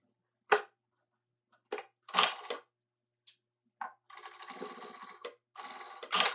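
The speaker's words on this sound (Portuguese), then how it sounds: "Agora é passar um pezinho de máquina" A sewing machine stitching the lining of a bag in short bursts: brief clicks and whirs, then two longer runs of steady close-up stitching toward the end, with no voices.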